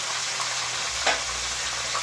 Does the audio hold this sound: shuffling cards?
no